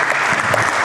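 Audience claps briefly in a dense, steady burst, loud and close, lasting under a second.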